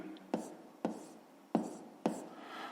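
Pen strokes writing out a fifth-grade maths solution, four sharp taps roughly half a second apart with soft scratching between, close and fairly quiet, with a faint murmur of a voice underneath.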